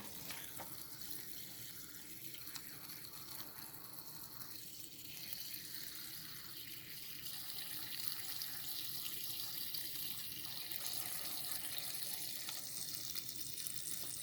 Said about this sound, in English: then you fill it with water